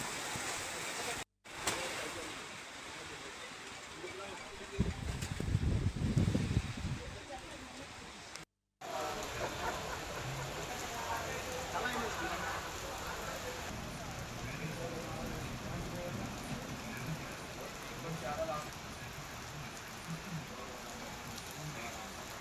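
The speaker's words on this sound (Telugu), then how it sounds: "హైదరాబాద్, కరీంనగర్ తదితర ప్రాంతాల్లో ఆకాశం మేఘావృతమై వర్షం కురిసింది." Heavy rain falls over Hyderabad under cloudy skies, a continuous hiss of drops with a louder, rumbling burst partway through and a couple of brief cut-outs.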